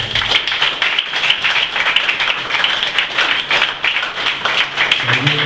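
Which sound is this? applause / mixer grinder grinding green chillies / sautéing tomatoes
applause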